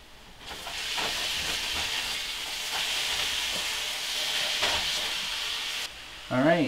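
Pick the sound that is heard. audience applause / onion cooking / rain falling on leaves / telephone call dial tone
onion cooking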